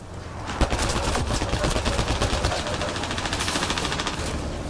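Rapid sci-fi gunfire in the Mass Effect: Andromeda video game, a dense sustained burst of repeated shots with heavy low rumble, loud and continuous throughout.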